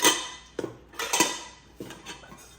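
Metal camping cooking pots clink and clatter as they are handled, four or five bright, close knocks spaced irregularly with no talking.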